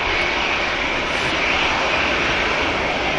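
EasyJet airliner jet engines at Manchester Airport, a loud, dense and unbroken roar heard close up for a few seconds with no talking.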